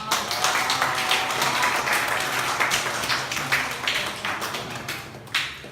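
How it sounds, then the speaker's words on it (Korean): Congregation clapping in a church service to celebrate a marriage, dense continuous applause at close range filling the room, tapering slightly toward the end. "우리 함께 축하하는 의미로 박수를 쳐주면 좋을 것 같습니다"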